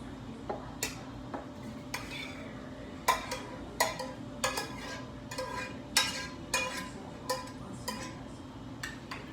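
Browned turkey stirred in a pot, with a series of distinct spoon-against-pot clanks and scrapes in an irregular rhythm, close but fairly quiet, no talking.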